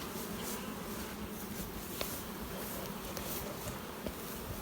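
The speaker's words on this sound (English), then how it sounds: "Substantial amount of bees outside the hive, bearding." A dense swarm of honey bees buzzes outside the hive while bearding on a warm day, a steady close hum with no voices.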